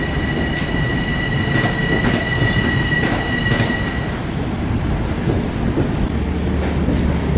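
A Long Island commuter train in New Hyde Park, New York, running along the tracks with a loud continuous rumble, rhythmic wheel clatter and high squealing tones that fade midway, heard from on board.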